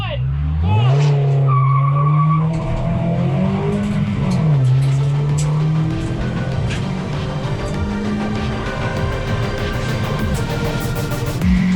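Toyota Yaris racing on the Big Willow track, its engine droning loud and steady with pitch climbing and dropping through gear changes and corners, tires squealing in places and other cars audible nearby.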